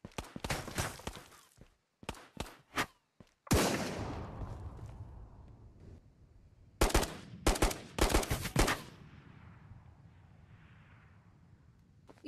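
Video game gunfire comes in loud bursts of rapid automatic shots, separated by short pauses, with booming echoes that decay between volleys.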